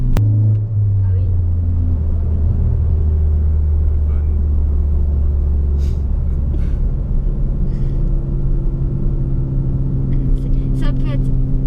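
A Ford Focus ST MK3 engine rumbles steadily at low revs nearby, a constant deep drone with a brief rise early on, while people talk over it.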